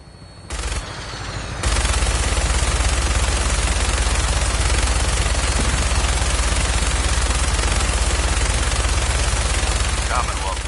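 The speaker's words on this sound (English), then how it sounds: "That minigun in front of you is loaded and ready to fire." A helicopter-mounted minigun fires in a video game. After a brief lead-in, a loud, dense, unbroken roar of rapid fire holds steady for about nine seconds.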